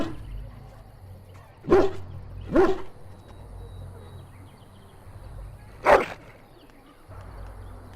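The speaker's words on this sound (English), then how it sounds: "He bounces around you, barking excitedly." A dog in the video game Dragon Age Origins barks excitedly, three short sharp barks spaced a second or more apart over a low murmuring game ambience.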